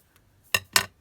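Scissors snipping a crown shape from paper for a cardboard art journal page, two quick close crisp cuts in a quiet room.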